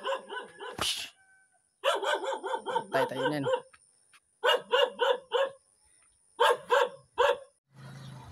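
A dog barks sharply in several quick bursts of three to five barks, with short pauses between them, close by at a busy public market in Caliongan, Dalaguete, Cebu. A voice speaks briefly.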